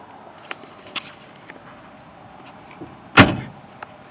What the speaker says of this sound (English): Doors shut tight, they don't sag.